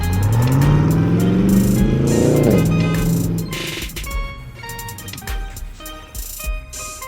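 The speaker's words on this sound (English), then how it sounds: "Straight pipes. No muffler, straight pipe." A C5 Corvette with straight pipes and no muffler revs loud and harsh, its exhaust rising in pitch as it accelerates away, then fading into distant engine noise.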